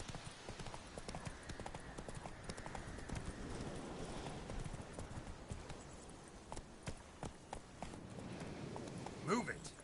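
Roach, the horse in The Witcher 3, gallops with a steady clattering hoof rhythm over rustling ground noise, close and continuous for several seconds, with voices speaking in the mix.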